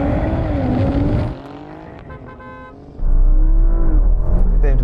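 High-performance BMW M4, Audi RS5 and Alfa Romeo Giulia Quadrifoglio cars at a drag race launch: a loud engine roar falls away into a quieter lull, then surges back hard and steady.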